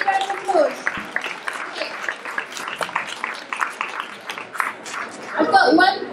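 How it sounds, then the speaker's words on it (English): Audience applause at a science, technology and gender panel, a quiet spread of hand claps from the room rising and fading over several seconds, with a voice talking over it. "Let's give a big round of applause."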